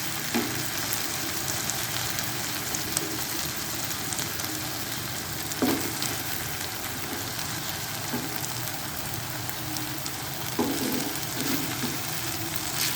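Eggs sizzle in a pan over a pressed-down batter base for shakshuka, a steady bright frying hiss throughout with a few soft scrapes and clinks, no voices.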